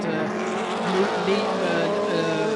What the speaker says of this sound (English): look how Ollie's Corvette has been catching the Aston Martin over the last couple of laps